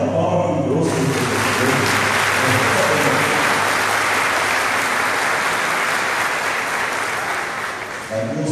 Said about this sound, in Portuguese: Salve de palmas, que doce.